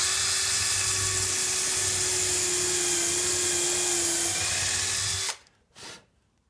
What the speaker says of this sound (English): I'm going to take the extra step and drill a small pilot hole all the way through both pieces